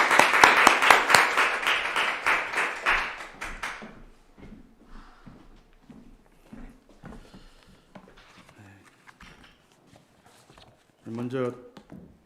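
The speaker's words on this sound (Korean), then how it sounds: "우리 목사님 오실 때 박수로 한번 환영하고" A church congregation welcomes their pastor with a burst of clapping that lasts about four seconds, loud and lively, then fades into quiet shuffling and footsteps, with someone speaking near the end.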